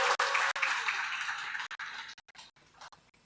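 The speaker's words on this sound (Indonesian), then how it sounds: "Jadi tepuk tangannya lagi dong." Audience clapping at a university campus event in Jakarta, full at first, then thinning into scattered claps and dying out with short silences.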